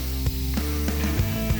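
A spray gun spraying car paint on a Challenger R/T build, a steady continuous hiss with a low hum underneath and a few faint clicks, close and even throughout.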